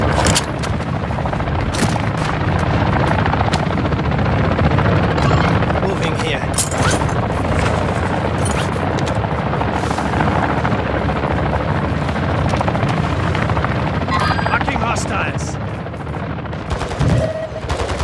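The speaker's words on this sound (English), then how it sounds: "Cargo helo inbound." Helicopter in Call of Duty Warzone on Ashika Island, a steady rotor roar underneath continuous heavy gunfire, explosions and booms, with voice lines heard over the battle.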